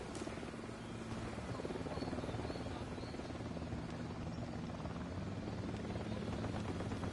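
A helicopter flies in the video game Ghost Recon Wildlands, a steady, rapid rotor thumping with a low engine drone that holds at moderate volume throughout with no voices.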